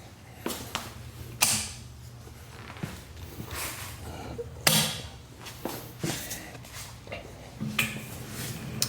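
Wheels of a sturdy garage cart with wheel locks roll and creak over a garage floor, with clunks and knocks at irregular intervals, close by and without talk.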